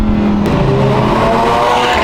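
An Audi R8 sports car drives past as part of a convoy on the road, its engine note droning steadily and loud throughout with a faint tire hiss and no talking.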